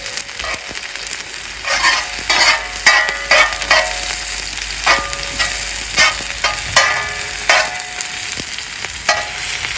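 Onions frying in oil on a tawa for lamb keema balti, a loud sizzling hiss broken by repeated bursts of spatula scraping and stirring, with no one talking.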